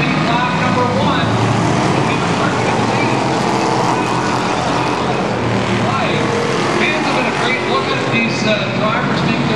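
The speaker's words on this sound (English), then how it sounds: "Great Flynn is broadside of the track as they come around to complete lap number one" Pure stock race cars roar around Sauble Speedway as a backwards race completes its first lap, a loud, continuous wash of engine and crowd noise filling the whole stretch while an announcer's voice runs underneath.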